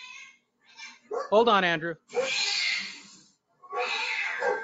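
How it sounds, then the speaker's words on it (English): Cats fighting inside a house: a rising, wavering yowl, then long harsh hissing screeches in two bursts, loud and close, with someone speaking over the start. "The cats are fighting."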